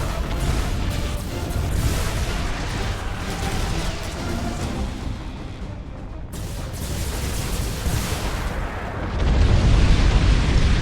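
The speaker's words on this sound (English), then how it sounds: "Tell them to detonate the mines. That explosion should clean our tails of these traitors." Mines detonating in a spaceship battle in Battlefleet Gothic Armada 2: a dense, sustained rumble of blasts and debris that swells louder toward the end, with no talk over it.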